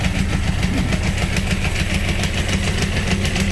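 A 1983 Yamaha XJ 900 motorcycle engine runs steadily at idle, a loud, close, continuous rumble with a fast even beat, alone with no talking.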